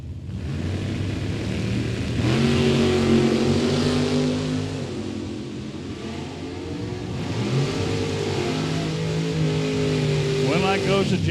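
Drag racing vehicles, including a pickup and a Camaro, accelerating down a Mid Michigan Motorplex strip, engines rising in pitch through repeated revving runs, loud and continuous with an announcer talking over them.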